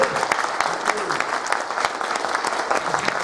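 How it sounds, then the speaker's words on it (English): An audience at a Play Expo talk in Blackpool claps in a dense, even burst of applause that carries steadily throughout without pause. "a big round of applause,"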